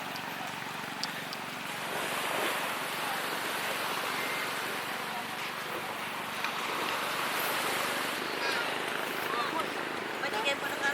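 Waves washing on a beach at Bauang, La Union, a broad steady surf hiss mixed with wind noise on the microphone, continuous and moderately loud with people talking in the background.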